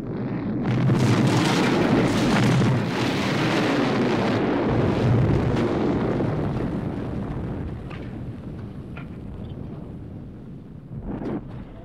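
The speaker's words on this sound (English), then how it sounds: "Wonderful live explosion" A big rumbling explosion in the 1982 film The Thing, set in Antarctica, roars and sustains for several seconds, then slowly dies down into a lingering, crackling tail with a few scattered bursts.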